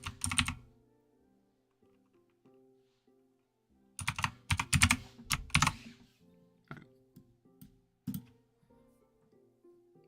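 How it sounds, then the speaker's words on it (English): Bursts of fast computer keyboard typing, loud and close, with pauses between quick flurries of clicky keystrokes, no talking over them. "Sorry for my keyboard. That's gonna break some ears."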